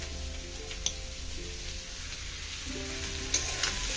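Dried fish (shutki) chutney with chilli powder frying in oil, a soft, steady sizzle close by with a couple of faint clicks of stirring.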